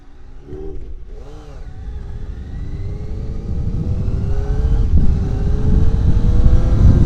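A Suzuki GSX-R 600 SRAD sport motorcycle engine revs up, its whine climbing steadily in pitch and growing louder over several seconds after a couple of brief throttle blips, close by and alone.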